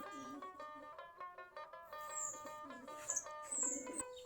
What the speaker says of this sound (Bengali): আমাদের মোটামুটি 20-22 জোড়া কবুতর আছে এখন, সবগুলাই দেশি জাতের কবুতর।